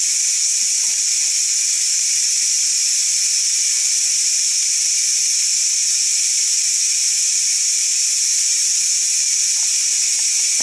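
Steam vents from the pressure release of a Ninja Foodi cooking beef ribs, a loud, steady, high-pitched hiss that runs continuously without letting up, with no voices.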